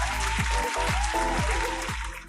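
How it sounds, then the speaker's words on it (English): Audience applause during a live-streamed comedy show, a brief burst of clapping beneath a strong low rhythmic music beat. "give a huge round of applause for Kate"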